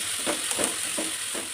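Onions frying in hot oil with mustard seeds, a steady close sizzle with a few soft stirring scrapes and pops over about a second and a half, no voices.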